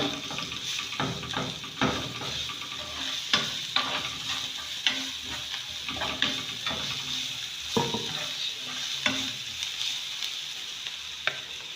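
Onions, seasoning cube, garlic and ginger frying in a pan: a soft continuous sizzle under repeated scraping stirs and light clinks of a utensil against the pan, with no talking.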